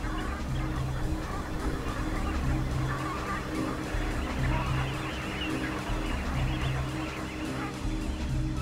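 A flock of dark-bellied brent geese calls on open tidal flats, a steady chorus of overlapping throaty honks and murmurs that continues loudly without a break.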